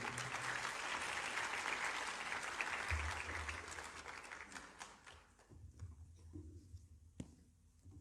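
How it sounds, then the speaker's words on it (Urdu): An audience at a Christian church gathering applauds to welcome a speaker, with dense, steady clapping that gradually thins and fades toward the end. "ہم سب تالیوں کے ساتھ ان کا استقبال کریں گے۔"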